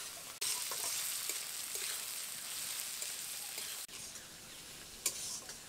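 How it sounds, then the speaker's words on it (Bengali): Onions frying in a pan for a Bengali shankar fish curry, browning lightly: a steady close sizzle runs throughout, briefly cut off near the start and again near the middle, with a few light utensil ticks and no talk. "তো পেঁয়াজটাকে এখন হালকা বাদামি করে ভেজে নেব।"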